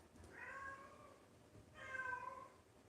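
A pet cat meows twice indoors, two drawn-out, fairly faint calls a little over a second apart over a quiet background hiss.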